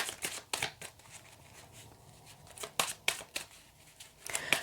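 Tarot cards are shuffled by hand during a reading: a series of crisp riffling bursts and soft flicks at irregular intervals, close and fairly quiet, with no talking.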